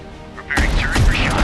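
Naval cannon fire in the Warships Mobile game, a sudden loud blast breaking in after a quieter start and rolling into a sustained, booming barrage of heavy shots and explosions, with game voices over it.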